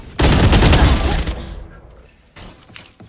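Loud burst of Valorant gunfire, a dense fusillade of shots in the opening second that fades away, then a second softer burst near the end.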